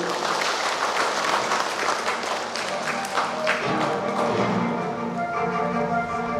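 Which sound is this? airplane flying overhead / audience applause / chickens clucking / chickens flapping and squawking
audience applause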